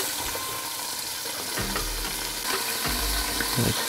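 Chicken wings fry in a pan over medium heat for Coca-Cola wings, giving a constant hissing sizzle broken by a few louder bursts of spattering and pan clatter.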